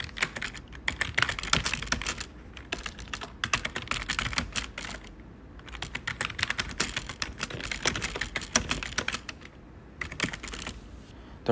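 Someone types a YouTube video title on a computer keyboard: rapid, continuous clusters of close keystrokes in several bursts with short pauses between them. No voices are heard.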